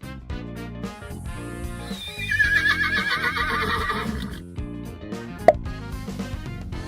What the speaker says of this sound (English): That is right, it is horse.